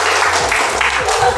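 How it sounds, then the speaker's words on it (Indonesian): Brief classroom applause during a teacher's lesson, a short wash of many hands clapping at once, fairly loud and dense, with voices mixed in underneath. "Tepuk tangan dulu."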